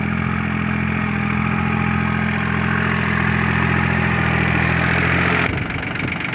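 A Swaraj Target 630 compact tractor engine idles steadily and loudly up close, a constant low rumble with mechanical vibration that shifts and drops in level near the end.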